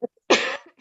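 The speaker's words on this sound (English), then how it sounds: "So I'm going to cough in a minute" A single short, close cough from one person, with a faint breath or small vocal sound just before it.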